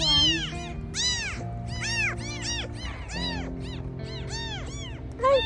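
A kitten or young cat meows repeatedly in a steady run of rising-and-falling cries, close and fairly loud, with a low steady hum underneath and no talking.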